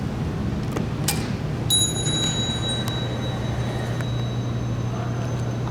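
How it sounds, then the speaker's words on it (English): A classic Dover traction elevator at the Central Texas Tower in Waco sounds its arrival chime, a single clear sustained tone that rings and fades slowly over a steady background hum, with a few faint clicks nearby. "I absolutely love that chime."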